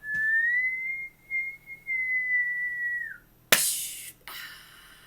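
A person whistles a long steady tone that glides downward at the end, mimicking a rising firecracker, then a sharp clap-like burst and a second softer burst follow.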